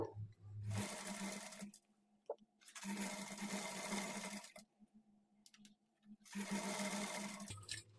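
A sewing machine with a normal presser foot stitches thread piping onto a blouse in three loud whirring bursts of about one to two seconds each, separated by short quiet pauses, close up and without voices.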